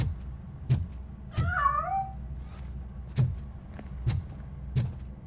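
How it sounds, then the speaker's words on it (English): A cat in the RoboCop: Rogue City video game gives one rising-and-falling meow, clear and mid-distance, set among dull thuds and light game ambience. "That cat must be hiding inside."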